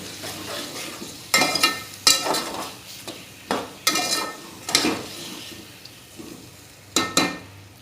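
Ginger-garlic paste sautéing in a pan for Hyderabadi chicken biryani, a soft sizzle under repeated bursts of a spoon scraping and stirring against the metal pan, about eight strokes spaced irregularly, close and clear.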